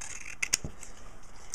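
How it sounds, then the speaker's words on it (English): A pair of scissors snips material twice in quick succession, short sharp close cuts in a quiet room. "Then get your scissors and of course cut it."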